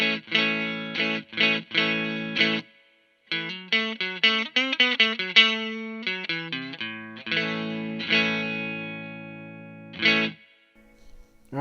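Electric guitar played through a Fender Blues Jr amp with reverb added, plucked notes and short phrases ringing out with tails, a few gaps of near silence between passages.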